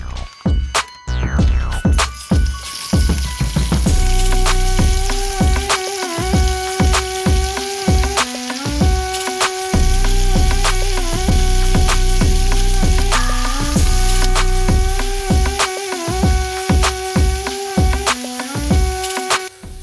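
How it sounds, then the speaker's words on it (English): Onions and peppers for shakshuka fry loudly in a pan inside a 2018 Travato 59G RV, a dense continuous sizzle with crackling pops and a few utensil knocks at the start. "The onions and peppers are in there marinating and cooking down right now."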